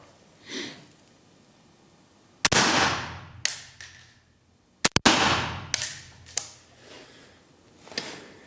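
A suppressed 12.5-inch .308 rifle fitted with a Huxwrx Ventum suppressor fires outdoors at night, two sharp cracks a few seconds apart, each followed by a trailing echo and faint clicks and handling noises.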